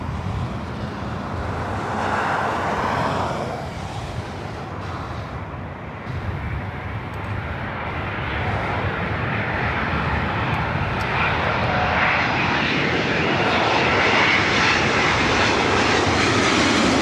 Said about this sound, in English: This flight coming in from London Gatwick.